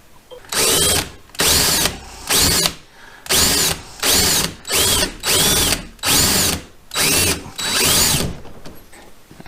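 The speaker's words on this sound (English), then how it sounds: "I'm gonna switch over to the 3/8 inch drill bit" A power drill with a 3/8 inch bit whines in repeated loud bursts drilling a hole in a kayak, about a dozen short runs separated by brief pauses, close up.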